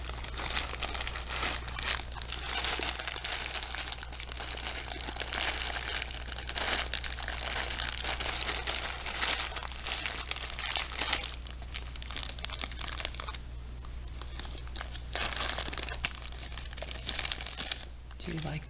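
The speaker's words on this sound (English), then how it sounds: "I found some dried tortellinis in a plastic baggie." A plastic baggie of dried tortellini crinkles continuously and closely, a dense rustling that briefly thins partway through and then returns, over a constant low hum.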